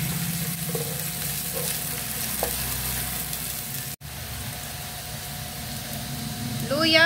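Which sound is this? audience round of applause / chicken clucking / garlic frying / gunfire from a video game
garlic frying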